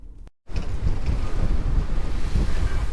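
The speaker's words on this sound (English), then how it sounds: "Wow, is it windy?" Strong wind roars and buffets the microphone at a flooded Ocean City, Maryland waterfront near the convention center. A steady, loud rumble with gusts and surf-like wash follows a brief dropout at the start.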